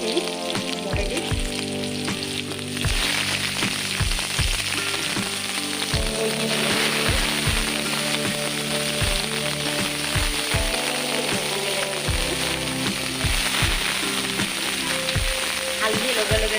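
Taro pieces fry and sizzle steadily in a hot pan in an Assamese kitchen, a continuous crackling hiss punctuated by frequent low knocks and clatters of utensils against the pan, with no voices.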